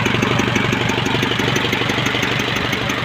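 Isuzu 4HL1-3T diesel engine idling steadily just after finally starting, with a loud, close, even rumble and a rhythmic low knock carrying through the whole stretch.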